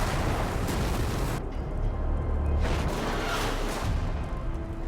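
A bomb strapped to a civilian detonates in a Filipino police action film: a loud, sustained broadband blast with heavy low rumble, swelling twice over several seconds without any voices.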